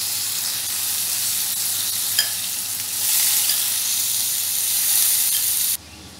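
Tempered dal is stirred with spices in a hot pan, a prasad dal for Ganpati. A loud, steady sizzle carries light scraping from the spoon, then cuts off abruptly near the end.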